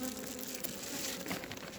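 Honey bees swarm around an open hive during a candy feed check, a dense steady buzz of many insects close by, continuous and fairly loud throughout, with faint crinkling of plastic in the background.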